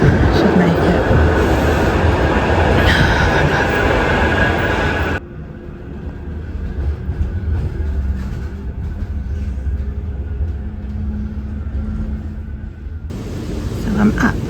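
A tram in Sheffield rumbles and rattles along the tracks close by, loud at first, then muffled and steady as if heard from inside, with faint clacking.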